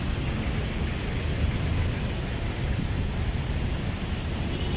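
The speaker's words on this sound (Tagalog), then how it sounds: "Dahil sa lakas ng hangin dito." Strong wind blows along a Manila city street near Recto, a constant broadband rush buffeting the microphone for several seconds without letting up, loud and close, with no voices.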